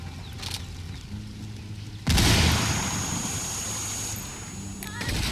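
A frag grenade goes off in Ghost Recon Wildlands: after a quiet stretch, one sudden loud blast hits midway and leaves a long, rumbling decay.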